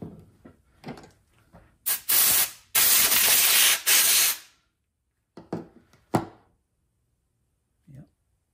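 Several sharp hissing bursts of aerosol cleaner sprayed through a carburetor jet from a Kohler Command engine on a Craftsman garden tractor, a couple short and three longer blasts in a row, between brief soft handling noises.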